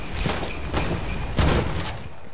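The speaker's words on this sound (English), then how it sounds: "What are you shooting at?" Bursts of gunfire in a shooter video game come in several quick volleys, moderately loud and close, with no talk over them.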